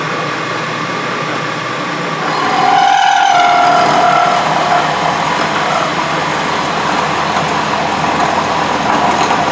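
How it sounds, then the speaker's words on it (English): A lathe milling out a mount for a deburring tool gives a steady, loud mechanical whir and grinding drone, briefly rising in intensity with a few tonal whines before settling into continuous machining noise. "I'm just milling this out far enough to cover me to do the other."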